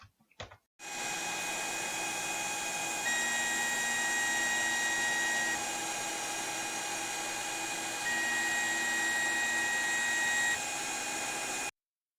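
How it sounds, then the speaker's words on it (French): A 3D printer runs steadily while printing a calibration cube, giving a continuous close motor hum with faint whining tones that shift partway through, then stopping abruptly. "je vais lancer l'impression, et je vous retrouve devant l'imprimante"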